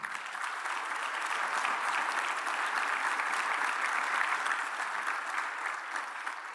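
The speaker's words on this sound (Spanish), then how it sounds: "Dele usted un aplauso al Señor" A church congregation claps for the Lord, a steady, even wash of applause held at a moderate distance and unbroken throughout, with no voices over it.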